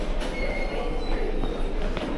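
A TTC subway train rumbles steadily through Toronto's Union Station underground, with loud, continuous low roar, faint wheel squeal and metallic clatter filling the enclosed space.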